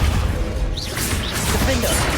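The Bombarda blasting spell is cast in the video game Hogwarts Legacy, a loud crashing burst within a thick, continuous wash of battle sound effects.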